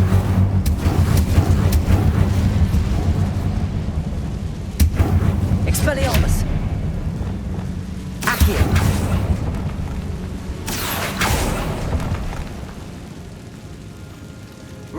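Spell blasts and magical explosions from the Hogwarts Legacy video game: several sharp, loud bursts land a few seconds apart over a continuous rumbling, crackling background.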